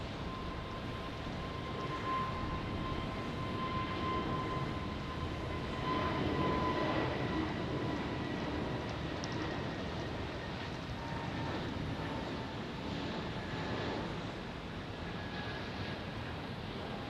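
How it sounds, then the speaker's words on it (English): A Frontier Airlines Airbus A320 jet departs Tampa International Airport, a steady distant engine roar that holds for the whole stretch, with no talk over it. "here comes Frontier, an A320"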